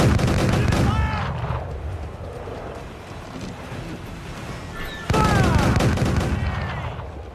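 Enemy cannons fire in the naval combat of Assassin's Creed IV Black Flag: two loud, close broadside volleys crash out several seconds apart, each trailed by whistling shells over a rushing sea-and-wind bed.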